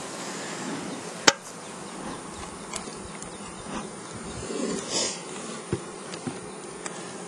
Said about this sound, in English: now we're starting to get into some of the bees